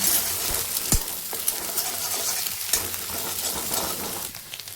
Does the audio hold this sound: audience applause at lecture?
no